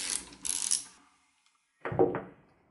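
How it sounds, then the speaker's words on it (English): Screw on the lung demand valve of a Dräger PSS BG4 breathing apparatus being unscrewed, two short clicky bursts of ratcheting metal scraping separated by a pause of near silence. "we can now unscrew the crater screw"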